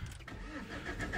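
A Saab 9-3 Aero estate with a 1.9 TTID Z19DTR twin-turbo diesel engine starting up, a low rumbling crank catching into a steady close-up idle.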